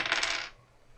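Dice clatter across a tabletop during a tabletop game session: a brief bright rattle of tumbling that settles into quiet within about half a second, close and fairly soft.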